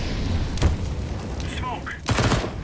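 Grenade explosions in a video game, heavy booming bursts landing amid gunfire, one near the start and a louder cluster toward the end, with voices calling out between them.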